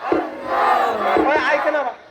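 A crowd shouting the takbir in unison in response to a call at a religious gathering in Sylhet, Bangladesh, one loud swelling chant of many voices lasting about two seconds, close and forceful.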